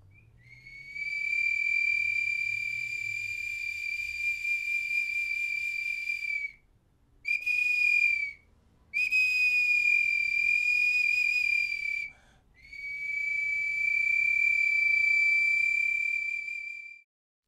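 A ceramic whistling human figurine gives a clear, steady high-pitched whistle in long sustained tones, broken by a few short pauses, alone and close.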